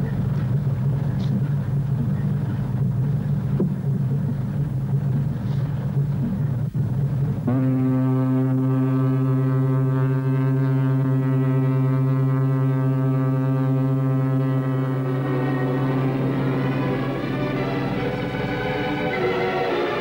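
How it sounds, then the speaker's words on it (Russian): A steamship's powerful farewell steam whistle bursts in after a low rumbling stretch and holds one long, loud, rich tone to the end. "Загудел паровой свисток."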